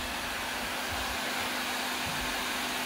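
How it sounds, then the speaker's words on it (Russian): A household vacuum cleaner runs steadily during home cleaning, a continuous broadband whooshing roar with a faint motor hum, close and unbroken throughout. "теперь Кристина пылесосит у себя только сама"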